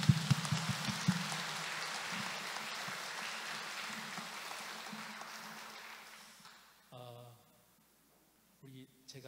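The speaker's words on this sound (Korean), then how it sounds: "박수 치셔도 괜찮습니다." A church congregation at a retreat evening service claps in a dense, sustained round of applause that slowly fades away, followed by someone speaking briefly.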